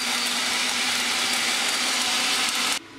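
A blender whirs steadily at full speed, a loud broadband motor roar with a low hum, then cuts out abruptly near the end.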